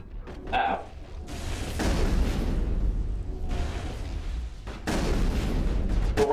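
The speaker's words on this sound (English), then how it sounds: "The random explosions is them using their abilities." Several loud booming explosions from characters' abilities burst one after another with a low rumble between them, in the video game Mass Effect.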